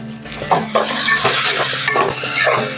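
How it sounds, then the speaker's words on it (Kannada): Food frying over a low flame in a pan for egg rice, with steady sizzling broken by repeated scrapes and clinks of a utensil against the metal, close and fairly loud, with no talking. "ಲೋ ಫ್ಲೇಮಲ್ಲಿ ಇಟ್ಕೊಂಡು ನೀಟಾಗಿ ಫ್ರೈ ಮಾಡಿ"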